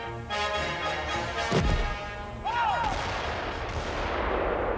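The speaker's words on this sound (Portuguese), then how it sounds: "realizaram exercícios de fogos reais no polígono de tiro de Vendas Novas" During a live-fire artillery exercise at the Vendas Novas firing range in Portugal, one heavy gun report booms mid-clip over a noisy, hissing background with faint tonal whines.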